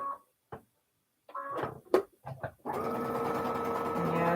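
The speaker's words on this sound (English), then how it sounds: "chain piecing here to make these extra blocks" A sewing machine chain pieces quilt blocks: a few short stitching bursts and clicks, then a sustained run of rapid stitching to the end, close and alone.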